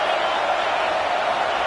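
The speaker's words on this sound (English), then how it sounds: "This crowd trying to make life miserable for this offense." Steady roar of a packed stadium crowd at an LSU college football game against Texas A&M, a dense, sustained wash of noise with no single voice standing out.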